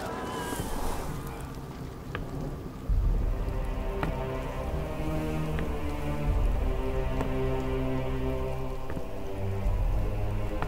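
Rain falls steadily on a surface with dense patter and scattered drops in a dramatic scene, and a low hum is underneath. The rain continues alone without talk.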